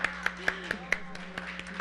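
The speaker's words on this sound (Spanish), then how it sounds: "Hay que darle un aplauso" Dr. Ramírez is applauded at a Mexican Senate forum on CEDAW harmonization in Ciudad Juárez: a few sharp, evenly spaced claps ring out in a quick, regular rhythm. They sound like a small group rather than a full crowd, with a low hum beneath.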